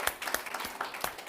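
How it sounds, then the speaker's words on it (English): A round of applause for a speaker at a conference session, faint scattered clapping from a small audience, a few distinct claps over a brief moment. "I'll give a round of applause for Dr. Clavarelli"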